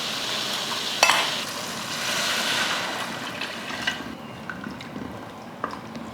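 Water is poured into a pan of vegetables cooking for sambar, producing a sizzling, bubbling hiss with a few clinks and stirring sounds, close by and without speech.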